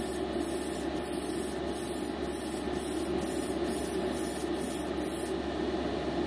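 A spray gun sprays MCW enamel paint onto a test spoon, giving a steady, continuous hiss of atomized air close by under a constant background hum, without pauses.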